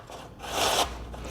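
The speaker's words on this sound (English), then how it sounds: "when you grate it, we want long strips" Cucumber rubbed down a box grater into long strips, a rasping scrape that swells loud mid-stroke then eases off, close and without talk.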